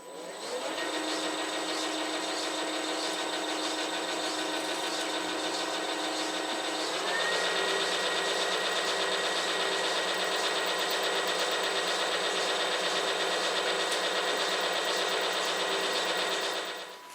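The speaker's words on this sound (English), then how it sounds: "I drilled a small mark to locate the matching ball bearing track." A small drill makes a mark in a drill chuck, set up with a feeler gauge as a spacer. The motor whirs steadily and alone, shifting pitch partway through.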